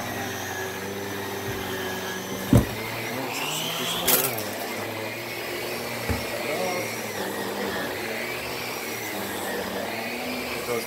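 A Miele C2 canister vacuum runs steadily while vacuuming upstairs, its motor whine continuous and fairly close, broken by a few sharp knocks and bumps as the head or body hits things; a voice is heard briefly over it.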